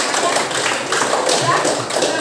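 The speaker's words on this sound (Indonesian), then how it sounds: "Tepuk tangan dulu." A classroom of pupils claps hands together in a short, brisk burst of patters, close and fairly loud, with children's voices mixed in.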